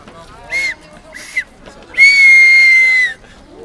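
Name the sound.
person whistling to imitate a departing train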